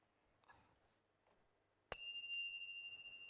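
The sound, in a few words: bell rung as a signal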